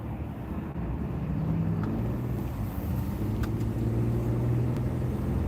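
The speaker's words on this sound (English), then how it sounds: "We're gonna get out in this traffic" A car moves through congested morning traffic, a steady low engine and road rumble heard from inside the cabin at moderate volume, with faint sharp ticks now and then.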